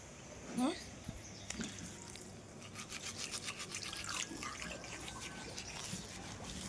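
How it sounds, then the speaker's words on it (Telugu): A toothbrush scrubbing teeth in a rhythmic, faint, close-up brushing sound, with a little water and a short voice near the start. "ఇప్పుడు బ్రష్ చేసేయా"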